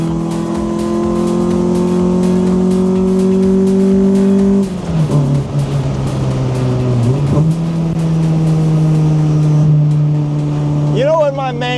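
A racecar engine holds steady high revs at full throttle, close and loud throughout, with a brief dip and shift in pitch midway and a voice breaking in near the end.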